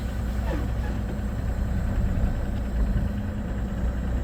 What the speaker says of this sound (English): I'm going to give it a little bit of gas.